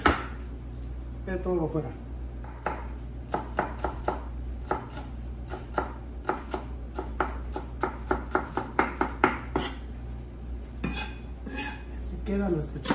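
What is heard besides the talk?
knife cutting and deseeding serrano chili on board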